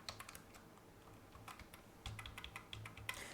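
Keys clatter on a computer keyboard as text is typed into a design program, a quick irregular run of light clicks at close range with no voices.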